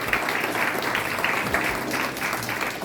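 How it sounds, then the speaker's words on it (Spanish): Steady applause from a church congregation during a Christian sermon, a dense continuous clapping wash lasting a few seconds with faint voices underneath. "Denle un aplauso al que vive"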